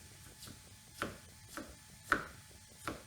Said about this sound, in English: I'm just going to start by chopping this up.